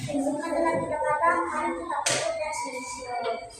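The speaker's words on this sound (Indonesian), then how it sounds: "Terima kasih tepuk tangan kepada kelompok" A class of students claps for a student group after its presentation in a classroom lesson. Children's voices ring out together with the clapping, and one sharp, loud clap stands out near the middle.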